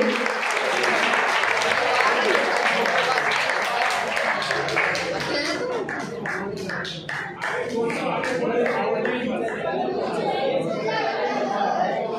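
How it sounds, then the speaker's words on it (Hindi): An audience claps loudly at a district-level singing competition prize ceremony held during the Das Lakshan festival. Dense, sustained applause mixes with crowd chatter and voices throughout. "जोरदार ताली बजाइए।"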